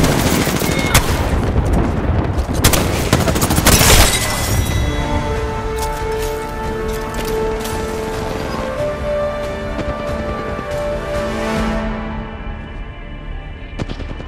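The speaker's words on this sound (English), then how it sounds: "They're shooting at me." Gunfire in the video game Apex Legends: rapid automatic bursts and sharp shots close by, followed by ringing tonal game effects as the firing fades.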